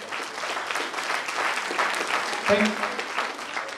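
An audience at a Hindi talk on health and Ayurveda breaks into hearty applause, a continuous crowd clapping with some voices mixed in and a brief louder bump partway through.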